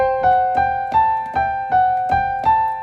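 Piano melody from a Kohler weak-finger study op. 300 no. 102 played with a sticky, uneven legato, a slow line of single notes struck one after another, each overlapping the last, clear and close.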